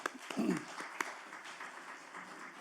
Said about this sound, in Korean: 귀한 박수 부탁드리겠습니다